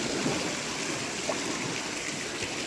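Lake waves wash against the sandstone cliffs at Pictured Rocks, a steady close rushing and splashing with water dripping off the rock, continuous and fairly soft.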